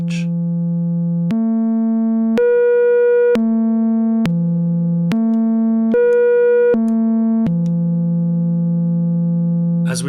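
Three sine waves in a modular synthesizer patch are switched in turn, giving a steady loud stepping tone that moves between three pitches in a repeating rhythmic pattern, each step held for about a second, with no voices.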